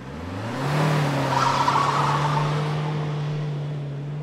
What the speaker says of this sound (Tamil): லாரி இந்த பக்கம் இருந்து மெட்டீரியல்ஸ் எடுத்துட்டு வந்துட்டு இருக்கோமா